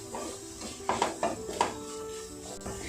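Spice powders stirred in a pan for an egg roast, with a few distinct scraping clinks of a spoon against the pan over a low background hum.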